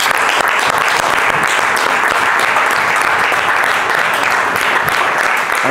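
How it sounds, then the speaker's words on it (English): Dense, loud applause from a Toastmasters meeting audience in Rwanda, continuous and even throughout with no talking. "She needs a round of applause"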